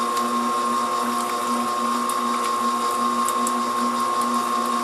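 Mixer machine whipping shea butter soufflé, a steady, even motor whine with a constant buzzing hum that never changes pace.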